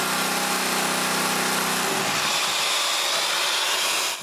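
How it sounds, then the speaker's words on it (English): A jigsaw fitted with a metal blade grinds against granite tile, giving a harsh, loud, close buzzing scrape that shifts in tone partway through, with no speech. "Then I try to cut the granite tiles with a metal jigsaw blade."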